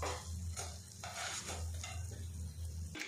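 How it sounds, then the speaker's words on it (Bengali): Fried jackfruit-seed and potato fritters are lifted from hot oil while a steady low sizzle runs throughout and soft metal scrapes and clinks sound close by. "এবার এই বড়াগুলো আমি তুলে নেব।"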